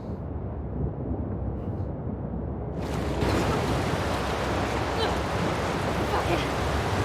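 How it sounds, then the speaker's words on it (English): Ocean waves surge and roll in The Last of Us Part II, a steady broadband wash that swells louder about midway and stays heavy, with no talk over it. "There's waves coming to get you and everything."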